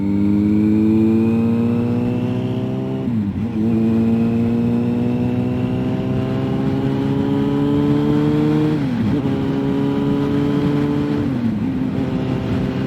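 Motorcycle accelerating hard up to 90, its engine note climbing through the gears with three distinct drops at each shift, loud and close throughout.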